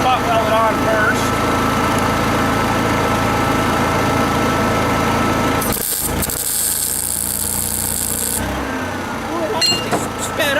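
A Honda 7k generator droning steadily while powering a Miller 212 MIG welder, with a loud close engine hum, a bright buzzing welding burst in the middle, and someone talking over it.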